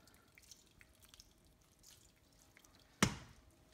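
Hot water at 70 degrees sparged through a grain bag in a kettle while brewing a Citra double IPA, a faint patter of drips leading to one sharp splash near the end.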